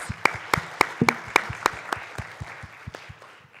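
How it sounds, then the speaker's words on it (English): A small audience at a student entrepreneurship summit claps after a pitch, sparse distinct hand claps in a loose rhythm that thin out and fade toward the end. "Round of applause."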